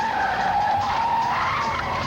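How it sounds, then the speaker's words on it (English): Tires screech in a sustained, loud squeal as a car skids during a movie car chase involving paparazzi pursuit, one unbroken skid lasting about two seconds. "A car chase."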